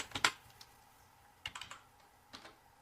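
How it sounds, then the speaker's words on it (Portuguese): Short bursts of keystrokes on a computer keyboard while entering a Google search, a quick cluster at the start and two more brief runs later, close and fairly quiet with no talking. "Digita aqui no Google,"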